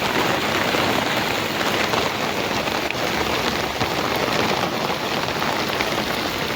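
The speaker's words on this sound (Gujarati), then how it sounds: "જોરદાર વરસાદ આવે છે મિત્રો" A dense, loud wash of heavy monsoon rain pours down continuously over cotton fields, drumming on surfaces nearby with no break.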